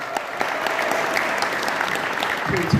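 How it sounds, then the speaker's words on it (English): A room full of dinner guests at an evening bee-themed dinner in Portland claps steadily, dense, loud and continuous throughout, with no voices standing out. "So if I could just ask everyone for a round of applause for Kelly Evans"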